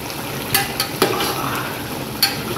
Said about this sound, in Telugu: ఇది బాగా ఎంత బాగా ఫ్రై చేస్తే అంత బాగుంటుంది.